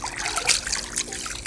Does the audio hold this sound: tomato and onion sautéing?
no